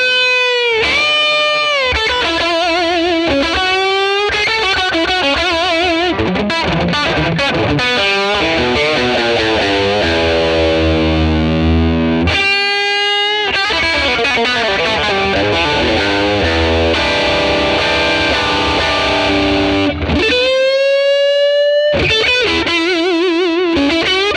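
Electric guitar, a Les Paul, played through a ToneX model of a 1957 Fender Tweed Bassman with reverb: loud, driven chords and sustained melodic lines ring out steadily, with a couple of brief gaps between phrases.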